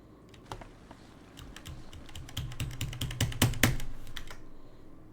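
Fingers clatter on a computer keyboard whose print screen key is failing, quiet at first and then building to a dense flurry of close, crisp keystrokes before stopping.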